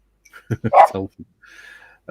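A dog barks in a few quick, sharp yaps close by, followed by a brief whine and one more bark, with room tone and little else around it.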